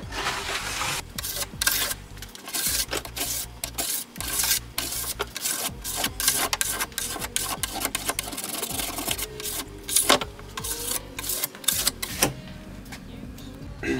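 A plastic scraper rubbing and scraping cooled wax off the edges of a snowboard, a close, continuous rasping with repeated back-and-forth strokes throughout.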